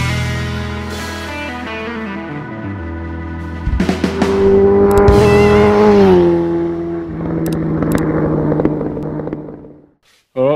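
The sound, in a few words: Suzuki GS1000 motorcycle engine starting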